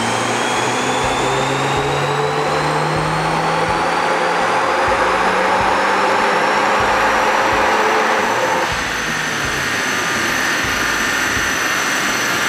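A stock Volkswagen Golf R MK8 engine runs on a dyno, a loud, steady roar with rising whine tones that climb over several seconds, then shifts to a lower, sustained drone with no talking.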